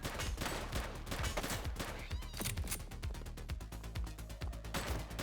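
Rapid gunfire in the police game The Precinct, a fast string of repeated shots like an automatic weapon, fairly faint and set against a busy, steady background of game sound.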